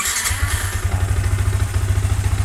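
Motorcycle engine after fuel injection tuning fires up and settles into a steady, loud close idle with a regular thumping pulse, no talk over it.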